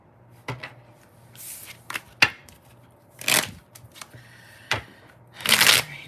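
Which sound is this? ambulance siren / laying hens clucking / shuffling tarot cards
shuffling tarot cards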